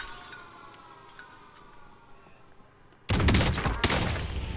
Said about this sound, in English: Oh! Somebody sniped me.